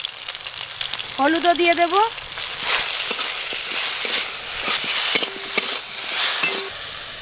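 Mashed elephant apple stirred in hot oil with panch phoron, a steady sizzle and frying crackle with scraping stir strokes, close and loud, while someone speaks briefly over it.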